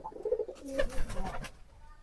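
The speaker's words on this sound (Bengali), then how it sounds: "আমাদের সব কবুতর এখানে আছে দেখেন" Soft, throaty pigeon coos repeat in a low rolling rhythm, close by, with faint rustling and a few quiet chirps around them.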